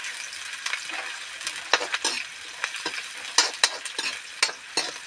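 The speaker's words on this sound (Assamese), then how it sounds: "আৰু তেতিয়া পিঁয়াজটো অলপমান সিজাকৈ ভাজি ল'ব লাগিব।" Onions and green chillies fry in a pan for a broiler chicken dish, giving a soft, continuous sizzle broken by repeated scraping stirs of a utensil, close and fairly quiet, with no speech.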